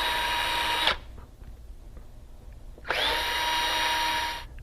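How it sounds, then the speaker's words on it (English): A power drill with a 1/8 inch bit pre-drills holes for a door reinforcement lock, whirring steadily for about a second, pausing briefly with faint background noise, then whirring again for nearly two seconds. "we're ready to pre-drill our other 3 holes with the 1/8 inch drill bit"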